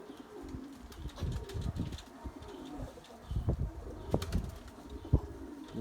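Erzurum white pigeons cooing softly near a loft, with scattered flutters and shuffles of wings over a low background murmur.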